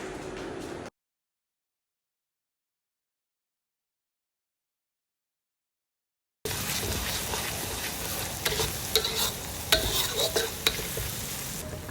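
Garlic and onion sautéing in a pan of melted butter and a little oil for a seafood boil, a steady crackling sizzle with soft stirring that starts abruptly after a long stretch of silence.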